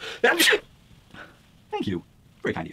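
A single sharp sneeze bursts out loudly near the start, followed by brief spoken words from a person.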